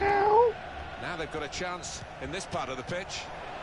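A cat meows twice in quick, rising cries at the very start, then falls silent as a football video game commentator talks on over crowd ambience.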